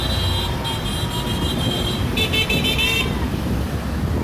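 Several car horns honk together over a steady roar of city street traffic at a protest, a longer blast swelling then breaking into shorter toots before stopping.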